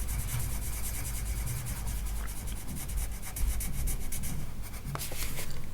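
Colored pencil shading in a light sand tone on the paper of a colouring book, a steady close rubbing scratch that keeps going without a break and has no talking over it.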